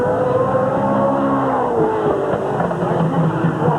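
Late model race cars at Sandusky Speedway, Ohio, in 1986, with engines droning loud and steady and revving as they line up and pass close by; no talk over them.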